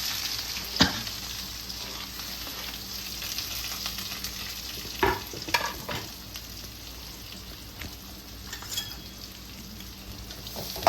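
Chopped onions and chillies frying in a pan for a fish gravy, with a continuous loud sizzle and crackle throughout and a few sharper pops and stirring clatters, with no voices.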